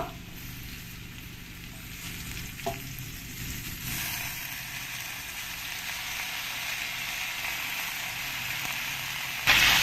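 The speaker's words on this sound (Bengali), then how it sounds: "শাকগুলো দিয়ে ভালো করে এরকম উল্টে পাল্টে ভালো করে নাড়িয়ে দিতে হবে" Chopped pumpkin greens are stirred and tossed with frying potatoes in a hot pan, making a continuous close sizzle with scraping stir sounds and a brief clack partway through.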